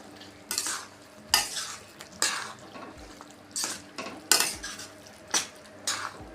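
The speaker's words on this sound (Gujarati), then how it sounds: "હવે કારેલાને આપણે ગ્રેવીની અંદર સરસ રીતના મિક્સ કરી લઈશું" A spoon scrapes and clatters against a pan roughly seven times in a steady rhythm, stirring fried bitter gourd into gravy over a soft background sizzle.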